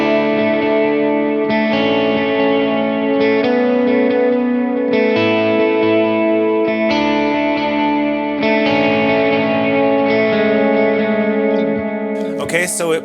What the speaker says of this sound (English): And with the delays on, it sounds like this.